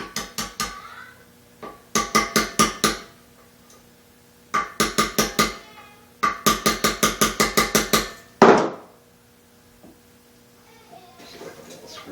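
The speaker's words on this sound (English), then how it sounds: "let's take out the flywheel key here. So with a little punch," A punch is hammered to drive the flywheel key out of a Honda GX200 engine, heard as bursts of sharp, ringing metallic strikes in quick rhythmic runs with short pauses between, loud and close.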